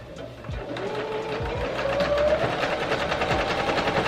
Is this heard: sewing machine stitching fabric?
yes